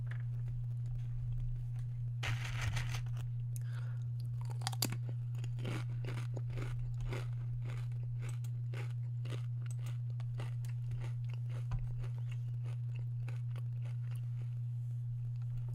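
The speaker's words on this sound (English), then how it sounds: "it's because I'm eating chips" Loud, close crunching and chewing of crisp snacks in repeated bites, over a constant low electrical hum, with no talking.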